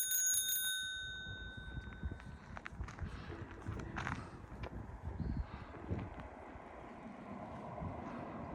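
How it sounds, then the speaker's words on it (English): A bicycle bell rings bright and clear at the start during a bikepacking trip on the Kettle Valley Rail Trail near Penticton, then fades into soft outdoor rustling and footsteps. "giving a little ring on that bike bell."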